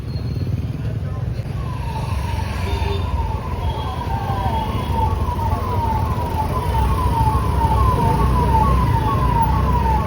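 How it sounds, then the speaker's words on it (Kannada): A police siren wails with a fast repeating electronic yelp during an RCB IPL victory celebration crowd on a Bengaluru street, loud and close over a dense crowd roar and traffic. "ಪೊಲೀಸ್ ಸೈರನ್ ಹಾಕಿದ ತಕ್ಷಣ ಎಲ್ಲ ಸೈಲೆಂಟ್ ಆಗಿದ್ದಾರೆ."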